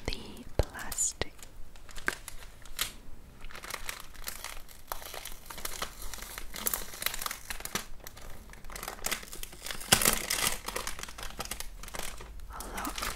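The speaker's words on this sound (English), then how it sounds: "let me remove the plastic" Plastic packaging crinkles and tears as it is peeled off a set of AliExpress makeup brushes, close and crisp in irregular bursts, with soft whispered speech throughout.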